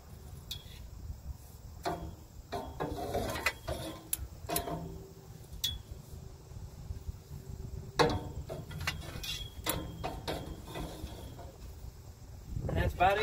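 A socket wrench ratchets as it torques a bolt on a tooth of a Caterpillar HM418C mulcher head, giving a quick series of close metallic clicks in uneven bursts against outdoor background noise.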